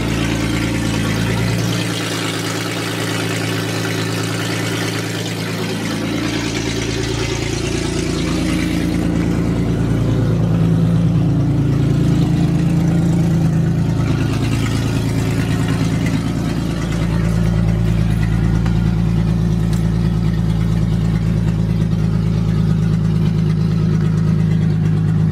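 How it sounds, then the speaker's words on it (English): A car engine idles after a cold start, a steady close low rumble that rises slightly in pitch and loudness partway through, with no talking. "It's a cold start for you guys."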